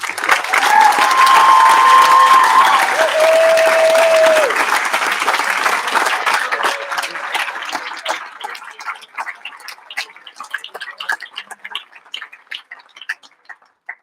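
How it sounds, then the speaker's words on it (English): Audience applause for children at a 56th closing day celebration: loud, dense clapping holds steady for several seconds, with a few whistles over it, then thins out into scattered, fading claps. "Let's give these kids one more round of applause"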